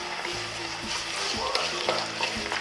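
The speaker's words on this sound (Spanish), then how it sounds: "Deja que se impregne todo y que comience a hervir" Quince paste, dulce de membrillo, cooking with sugar in a pot, with a steady close bubbling and sizzle, faint stirring scrapes and a low rhythmic hum underneath, and no talking.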